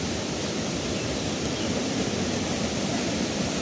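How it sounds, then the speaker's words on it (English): Dense, even roar of a waterfall in Jesmond Dene park, a steady broadband rush close by with no pauses and no voices. "Looks like we've got more waterfalls here."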